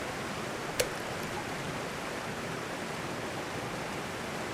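Steady broadband rush of a waterfall on a river where dippers nest, even and unbroken at a moderate distance, with a single brief sharp tick early on.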